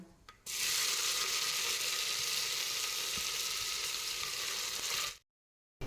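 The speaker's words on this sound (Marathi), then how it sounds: "हे गहू सुद्धा आपल्याला तुपामध्ये छान परतून घ्यायचे आहेत" A loud, steady sizzle of wheat grains roasting in hot ghee fills the clip without a break, then cuts off abruptly near the end.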